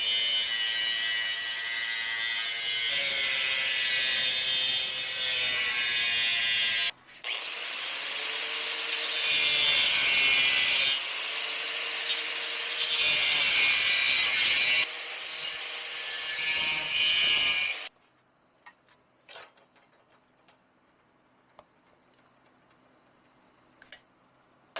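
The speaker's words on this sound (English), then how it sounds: "we have to cut this with the angle grinder." An angle grinder cuts through steel tube for a pie-cut Y-pipe merge, a loud sustained abrasive whine in several long passes broken by brief pauses, then stopping into near quiet with small clicks and handling sounds.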